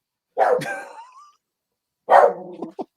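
A dog barks twice indoors, close and fairly loud, with a long whining, yelping first bark followed after a pause by a second bark and a few short yips.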